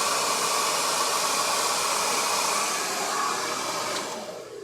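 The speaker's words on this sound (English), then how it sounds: "Take your blow dryer and then just keep blowing until it doesn't look wet anymore." A blow dryer runs steadily and loud, drying wet drag stage makeup, a broad rushing whoosh that holds for about four seconds before easing down slightly at the end.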